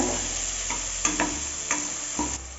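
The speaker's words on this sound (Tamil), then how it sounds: "இதெல்லாம் இந்த மசாலாவோட நல்லா கலக்கிற மாதிரி நல்லா வதக்கி விட்டுக்கோங்க" Carrots, beans and peas sauté in biryani masala in a pan, with a soft steady sizzle and a few distinct scraping stirs of a spoon close by, no talking.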